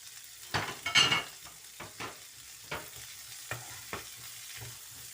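Shredded cabbage goes into a hot pan and is stirred, with a quiet sizzle and soft scraping strokes repeating at an uneven rhythm, close by.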